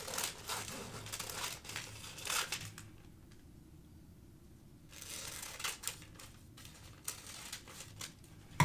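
Old paper being cut by hand with scissors for a junk journal insert: a quiet run of crisp snips and crinkling paper that pauses in near silence, then resumes, close and faint.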